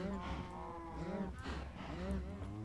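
Cattle in Minecraft, a crowd of baby and adult cows herded into a sorting pen, low drawn-out moos overlapping one after another, close and steady, with game background noise.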